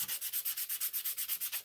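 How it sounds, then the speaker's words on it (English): Sandpaper worked by hand over the handle of a handmade Japanese Santoku kitchen knife, an even back-and-forth scratching with about a dozen quick, close strokes in a steady rhythm. "Not really sure how much time I should be spending on sanding this"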